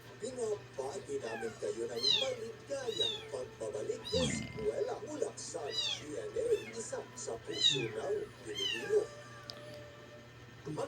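Orphaned kittens meowing in a home, a rapid string of high, overlapping mews, close and loud, with someone talking over them.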